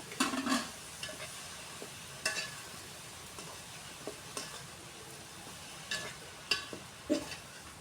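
Tomato pieces fry and get stirred in a pan over an outdoor fire, giving a soft steady sizzle broken by scattered scraping clacks of a utensil against the pan, fairly quiet with no talk.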